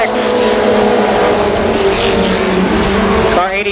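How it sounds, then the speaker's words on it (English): Mini stock race cars roar around a speedway oval, a loud continuous engine drone with pitch shifts as cars pass, mixed with an announcer's commentary. "Stratman challenges car number 5, Eric Schneider on the backstretch"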